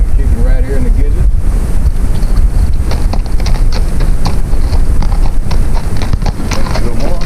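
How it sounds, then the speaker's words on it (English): Horse hooves clip-clopping on a trail ride in Tonto National Forest, Arizona, a quick irregular run of hoof strikes under heavy wind buffeting on the microphone, with a voice talking briefly near the start. "Make your horse go."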